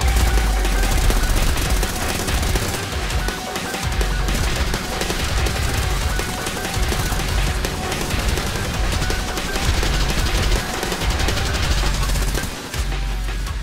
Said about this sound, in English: May I suggest the Kriss Vector?